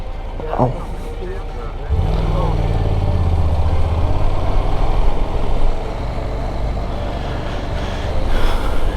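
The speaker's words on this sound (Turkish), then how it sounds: "motosiklete çok güvenmiyorum" A motorcycle engine starts rumbling and keeps idling with a steady low drone, close by, while people talk over it.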